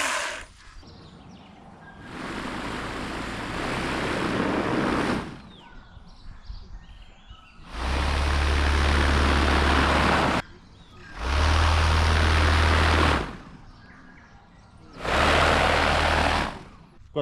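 Propeller motor driving a swing, four separate loud bursts of whirring buzz, each lasting a few seconds, with quieter gaps between them.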